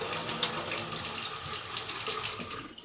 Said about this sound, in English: A little water noise in the background.